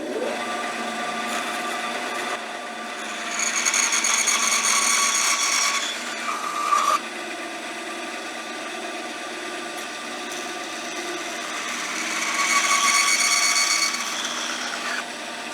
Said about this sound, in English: I happen to have a bandsaw, so that's what I'm going to use.